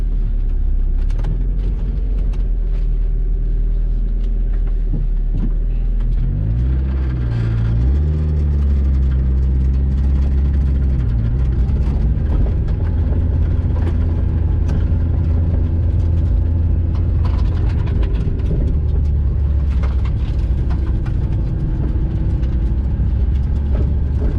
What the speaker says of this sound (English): so you may hear a lot of rocks and stuff hitting the underside of the car